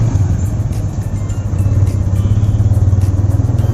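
Suzuki SF motorcycle ridden on a town road between Ishwardi and Kushtia, with a steady low engine rumble and pulsing exhaust throbbing throughout, close and loud under rushing wind noise.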